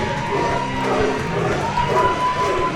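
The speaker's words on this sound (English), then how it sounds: "the whole crowd is speaking Joe, it sounds like, as they grunt along with Young Mighty Joe" Wrestling crowd at a CEW March Melee match grunting in unison along with Young Mighty Joe, a dense, loud mass of voices with rhythmic low chanting swells throughout.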